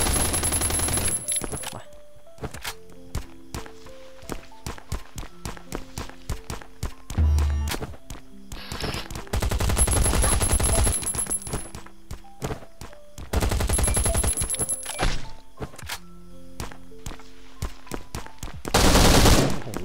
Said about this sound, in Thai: โอ้ยเสียงป้อมนี่คือโคตรดังไง